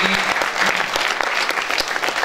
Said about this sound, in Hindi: तो एक बार जोरदार तालियां हो जाए ये सब परिचय के लिए